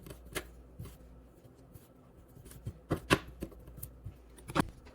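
A knife roughly chops a pile of oregano leaves on a board in a few scattered, sharp taps close by, some quick and grouped together, over a quiet background.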